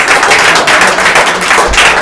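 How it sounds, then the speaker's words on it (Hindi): Loud, close clapping from a small audience comes in a steady, sustained stretch with no talking over it. "हाँ तालियों से बैठते हो प्लीज।"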